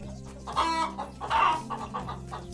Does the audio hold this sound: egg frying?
no